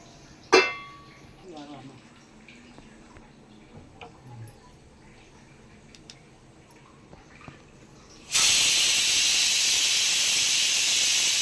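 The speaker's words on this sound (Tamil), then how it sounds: "வேகட்டும் நாலு நாலு அஞ்சு விசில் வரட்டும்" Pressure cooker cooking chana dal with turmeric lets out a sudden loud, steady steam whistle-hiss near the end, after a quiet stretch of faint kitchen ticks and clinks.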